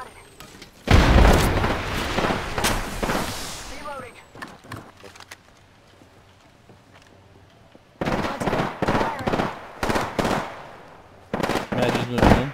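Gunfire in the battle royale game Apex Legends comes in loud bursts of rapid shots, then a quieter stretch, then more clusters of shots later, with players talking over it.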